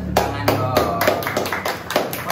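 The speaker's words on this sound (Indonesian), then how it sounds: "Tepuk tangan" Scattered hand claps from a small indoor audience at a gathering of mystery-story hunters, greeting a guest who travelled from Sumedang: sharp uneven bursts over about two seconds, with a murmur of voices underneath.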